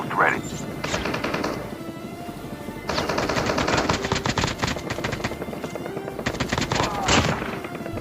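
Bursts of automatic gunfire in the Call of Duty Mobile video game, rapid rattling volleys in two long stretches with a shorter burst near the end, loud and continuous with game ambience underneath.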